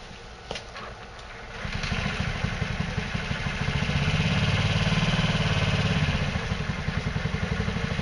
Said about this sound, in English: Let me start it up again.